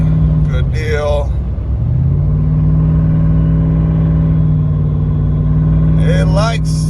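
A lifted Ram 1500 pickup with a turbocharged Hemi and six-speed transmission drones with a loud, steady low engine hum while cruising, as someone talks over it.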